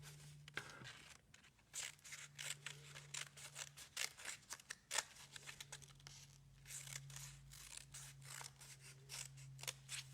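Scissors snip through a dark black sheet of craft paper, a steady run of close, crisp cuts and slight crinkles with brief pauses between strokes, no talking.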